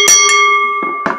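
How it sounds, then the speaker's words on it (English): A wrestling ring bell is struck several times in quick succession at a United States Championship match, each clang ringing on with a long sustained tone. "Ring the bell."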